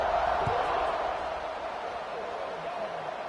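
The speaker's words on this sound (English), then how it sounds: "this crowd is buzzing after that last score" A stadium crowd in the NCAA 26 college football video game, Boise State against UNC, keeps up a steady broad roar beneath a commentator's voice.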